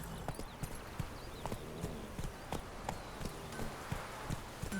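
Roach, the horse in The Witcher 3, clops along steadily. The hoofbeats repeat evenly and sit close over a constant bed of game ambience.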